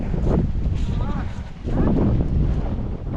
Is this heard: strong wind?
yes